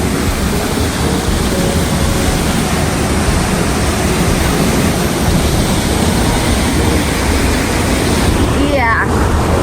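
A storm-flooded creek rushes past in a steady, loud wash of water, with a voice briefly heard near the end.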